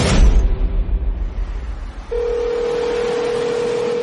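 Mobile phone dialing out in an audiobook scene: after a couple of seconds of dull rumble, a single steady electronic ringback tone begins and holds unbroken, clear and close, with no voices.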